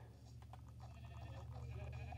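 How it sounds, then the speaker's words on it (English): A few faint Minecraft Bedrock Edition sheep bleats sound over a steady low hum and background music. "Alright, kill the sheep."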